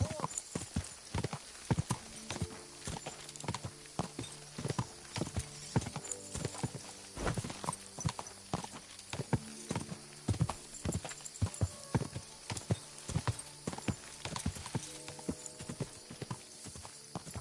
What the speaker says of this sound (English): What's up with that horse?